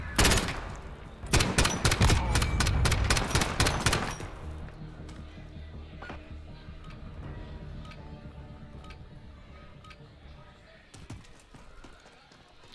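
Suppressed pistols fire in a Call of Duty 2v2 gunfight, opening with a dense burst of rapid sharp cracks that stops abruptly. Sparse scattered clicks and shots follow over a quieter bed of game ambience, with someone talking in places.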